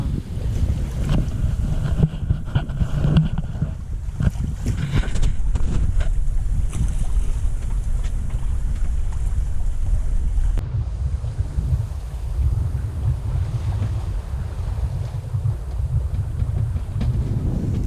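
Steady wind rushes and buffets over continuous low rumble of a sailboat underway at sea in a light southerly breeze, with some creaking early on; no voices.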